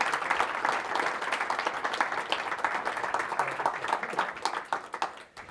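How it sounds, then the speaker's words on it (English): Warm audience applause at the close of a conference talk, dense steady clapping from a seated crowd that carries on evenly and then fades out near the end. "I would like to prepare the closing with another warm applause for the fantastic Tom"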